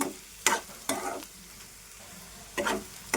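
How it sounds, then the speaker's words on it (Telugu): Onions frying with curry leaves in a pan: three loud bursts of spatula stirring and sizzling, separated by quieter stretches of low frying. "ఉల్లిపాయ అయితే వేగిపోయిందండి"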